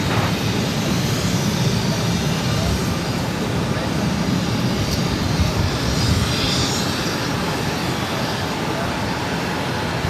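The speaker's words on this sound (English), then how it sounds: "This is Spirit Airlines 975 taking off to Newark on the A320." A Spirit Airlines Airbus A320 takes off from Boston, its loud, sustained engine roar filling the scene at a constant level, with faint voices mixed underneath.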